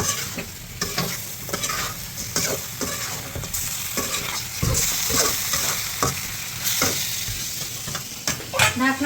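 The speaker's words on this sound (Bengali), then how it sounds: "মাছটা দিয়ে ভালো করে মশলার সাথে মাখিয়ে নিতে হবে।" Snakehead fish being stirred and tossed with spices in a hot pan, a steady sizzle of frying under repeated scraping stir strokes, close and fairly loud throughout.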